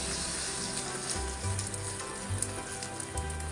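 Bread omelette frying in a little oil on a dosa pan, a steady close-up sizzle and crackle with a low hum beneath and occasional soft shifts as pieces are moved.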